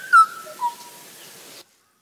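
Call of the Hawaiian o'o, a Hawaiian Islands forest bird: a few clear, fluty whistled notes, with a sharp first note, a second softer one and a sliding tail, heard alone and fairly close.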